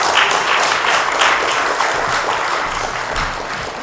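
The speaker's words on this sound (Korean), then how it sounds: "박수 쳐주십시오." An audience claps steadily after being asked, a dense, sustained round of applause that fills the space and tapers slightly near the end, with no talking over it.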